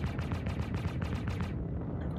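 Spaceship cannons and size 1 repeaters firing in Star Citizen: a rapid, even volley of loud shots for about a second and a half, then a sudden stop, with no one speaking.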